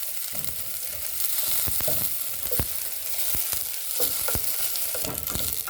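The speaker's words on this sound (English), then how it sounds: "Stir well and make sure your onion does not burn." Onions fry loudly in a pan while being stirred toward golden, a strong close sizzle broken by repeated scraping knocks of the spoon.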